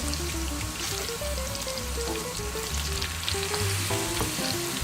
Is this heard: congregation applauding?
no